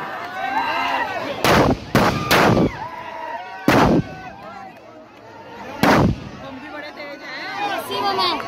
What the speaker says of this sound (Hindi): इसमें काफी बम लगे हुए हैं, आपको किसी प्रकार की कोई हानि ना हो